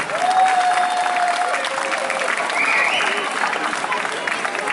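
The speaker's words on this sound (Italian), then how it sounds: "Un applauso forte!" A crowd at a dance school show claps steadily and loudly throughout, with a few whistles rising above the dense applause.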